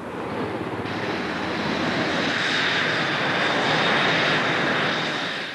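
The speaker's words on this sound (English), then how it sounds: "Harry's first Hornet flight begins." An F/A-18 Hornet jet engine on a test flight roars in a steady, loud, broad rush that swells slightly and then eases, heard alone without voices.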